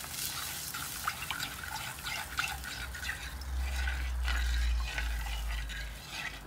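Water is poured into a mixer jar over curry leaves, a steady close splashing and trickling with a low rumble that swells midway, with no talking.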